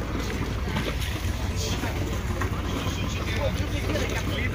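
A boat setting off to sea at Balaklava in Crimea, with a constant wash of water, engine and wind buffeting the microphone at close range, and voices mixed faintly into the steady roar.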